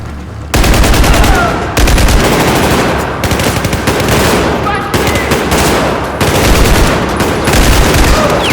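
Automatic gunfire from a military shooter video game played on a GTX 670 graphics card, loud sustained bursts of machine-gun fire with brief pauses between volleys, dense and continuous through the whole stretch.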